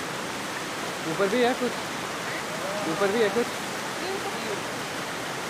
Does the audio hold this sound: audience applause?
no